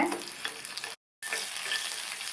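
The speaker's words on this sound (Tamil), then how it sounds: "மிளகாவும் வதங்கட்டும்" Green chillies sauté in a pan for ridge gourd chutney, giving a dense, continuous sizzle with light stirring scrapes. The sound cuts out briefly in the middle and then resumes, and no voices are heard.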